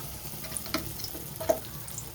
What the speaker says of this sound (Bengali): সবগুলোই ভেজে নেব